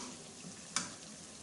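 Fish curry masala frying in ghee gives a faint, steady sizzle with a single sharp tap or stir near the middle, quiet and close.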